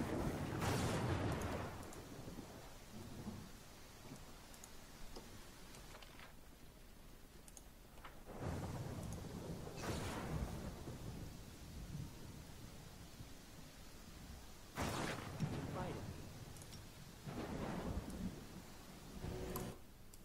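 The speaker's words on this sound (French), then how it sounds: "Ah, on se prend de la foudre sur la gueule." Thunder strikes in the Pathfinder: Kingmaker video game come as several heavy rumbling bursts, each with a sharp crackling onset that rolls off, spaced a few seconds apart over a low background, with no voices.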